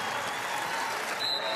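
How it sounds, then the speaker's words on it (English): Iowa State fans applaud at a Baylor vs Iowa State basketball game, a brief, steady burst of crowd clapping heard at a distance with arena noise, while a commentator talks. "she'll get an applause from the Iowa State fans."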